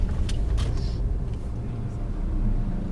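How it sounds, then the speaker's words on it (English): Busy street traffic in Vadnagar, India, with tuk-tuks: a continuous low rumble of engines close by, with a few faint horn-like tones and brief higher sounds in the first second. "Lots of traffic, lots of tuk-tuks"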